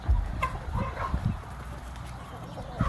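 Several chickens, a rooster and a hen among them, cluck in short bursts close by on a farm, with low scattered calls and some background noise throughout.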